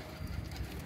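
A pigeon coos softly in a low, brief burble, faint and close, with nothing else heard.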